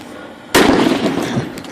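An M80 firecracker goes off in one sudden loud blast, followed by a dense crackling, rumbling decay, with no talk.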